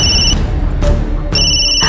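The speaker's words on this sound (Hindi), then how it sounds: "अरे, उनका खुद ही फोन आ गया।" A phone ringtone rings loudly and close, with repeated electronic tone bursts separated by short gaps.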